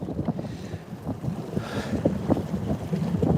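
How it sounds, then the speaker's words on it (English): Gusty wind rumbling against the microphone while bass fishing, with a low rushing sound that rises and falls near water, loud and close, with no speech. "it's a little windy out here today"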